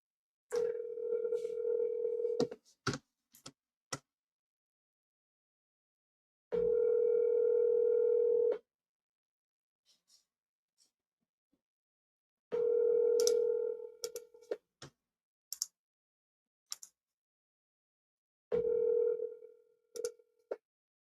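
Steady telephone dial tone heard while calling a seller, sounding in four separate stretches of a few seconds each, broken by short clicks and silent gaps.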